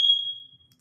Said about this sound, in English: I'm having smoke alarm issues.